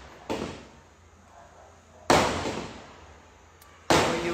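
Diwali firecrackers go off in a village: three loud, sharp blasts spaced about two seconds apart, each trailing off into a short echo, with quiet in between.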